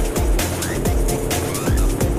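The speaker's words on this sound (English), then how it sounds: "that V8 burble was actually coming from under the hood" Deep V8 burble from a Mercedes GL 63 AMG SUV on a racetrack, a loud continuous engine rumble with rising and falling revs close by and no talk.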